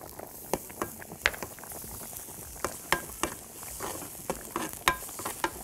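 Garlic dropped into hot ghee and oil, frying and sizzling steadily with a soft crackle, punctuated by sharp clinks and scrapes of a utensil stirring the pan, close up with no voices.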